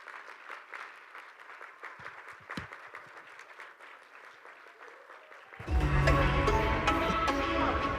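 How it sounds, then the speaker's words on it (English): A hall audience at the World Summit of Nobel Peace Laureates breaks into loud, sustained applause after a quieter stretch of room sound and a few light knocks. "So please give your applause to Rina."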